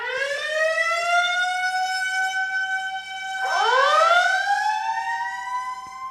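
A loud alarm siren wails with a steady electronic tone and then sweeps upward in pitch partway through. It stays prominent and continuous, with no voices.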